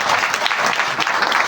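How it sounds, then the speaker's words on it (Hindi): A crowd breaks into applause, producing a loud, dense patter of clapping hands that holds steady across the short burst without any talking. "तालियां बजती है"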